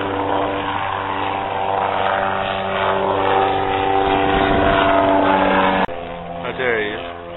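A McCulloch J2 gyroplane flying over, its steady propeller and engine drone dominating the recording, close and loud, with a brief cut near the end and voices in the background.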